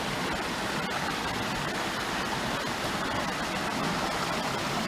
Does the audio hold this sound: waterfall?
yes